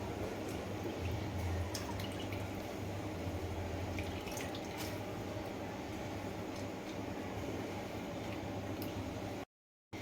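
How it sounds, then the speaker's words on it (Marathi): Water drips and trickles as grated potato is pressed to squeeze out its liquid for crispy potato bhaji, a steady wet patter close by with no speech, ending in a brief silence. "मी पूर्णपणे पाणी निथळून घेणार आहे बटाट्यामधलं प्रेस करून अशा प्रकारे जराही पाणी ठेवायचं नाही"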